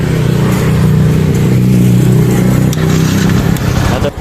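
Motorcycle engine fired up after a battery hookup, running loud and close with a steady low rumble and slight revving, then briefly cutting and rattling at the very end.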